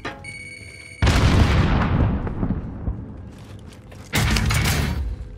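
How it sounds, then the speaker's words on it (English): A grenade goes off in Call of Duty: Modern Warfare, one loud, close blast with a rumbling tail, followed by a second heavy burst a few seconds later. "Grenade out!"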